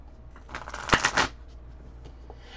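A deck of tarot cards is shuffled close up in a quick burst of riffling flutters and snaps, then settles into faint handling sounds.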